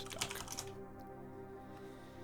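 Quick bursts of keystrokes clatter on a computer keyboard as a website address is typed, a short close flurry that gives way to quiet room tone.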